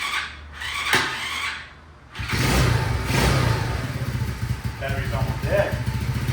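A Honda CT70 clone minibike engine with a Nibbi carburetor, choke on, cranks on a weak battery, then catches and runs with a rough, steady mid-pitched rumble, close up, with faint revving rises near the end.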